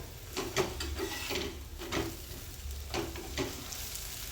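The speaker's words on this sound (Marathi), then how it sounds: "दोन्हीकडून मस्त तूप लावून भाजून घ्यायचं आहे" Millet bhakri flatbread roasts on a pan with ghee, a soft close sizzle broken by repeated scraping, rubbing strokes at irregular intervals, fairly quiet overall.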